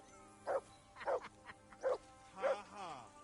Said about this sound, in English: Do something with that mutt,